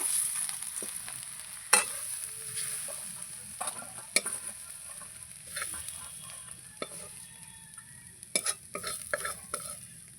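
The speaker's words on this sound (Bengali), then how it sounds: "এখানে মূলো ভাজা হয়ে গেছে আমার" Radish fries in a wok outdoors, with steady low sizzling and scattered sharp scrapes and clanks of a spatula stirring at irregular intervals, fairly close and moderately quiet.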